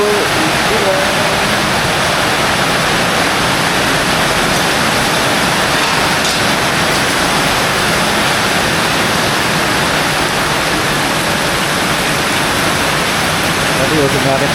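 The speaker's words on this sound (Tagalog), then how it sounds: "Ulan na naman." Steady, dense hiss of heavy rain pouring down, continuous and close for the whole stretch with no pauses.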